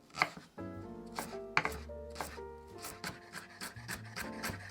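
Knife chopping green onion on a cutting board, a quick run of sharp taps and knocks close by, with musical tones playing underneath.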